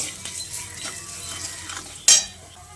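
Chicken momo filling with salt, black salt and sugar being mixed in a bowl, soft scraping and stirring strokes ending in a sharp utensil clink against the rim, close up and without talk.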